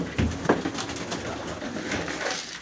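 Pigeons coo softly close by, a few low rounded calls rising over a faint outdoor hum, with no voices.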